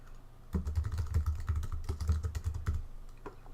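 Close, quiet typing on a computer keyboard entering a site name, a quick burst of light key clicks after a short silence, then tapering off.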